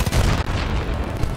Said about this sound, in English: Oh crap, I'm getting shot at.